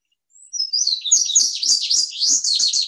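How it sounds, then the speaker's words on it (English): Bobolink song from a meadow bird: a rapid, bubbling run of high metallic notes, opening with a thin rising whistle and then tumbling continuously for about two and a half seconds, fairly close and clear with no voices. "this is the bobolink"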